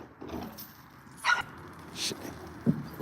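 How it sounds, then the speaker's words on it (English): A dog whimpers and gives a few short yips and barks, soft, close and intermittent, with some quiet background noise and a faint voice. "This dog right here."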